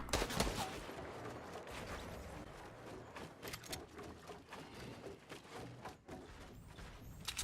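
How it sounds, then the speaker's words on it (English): Fortnite gunfight with rapid bursts of gunfire, sharp repeated shots scattered across the clip over a busy, moderately loud game soundscape. "everyone's in a gunfight"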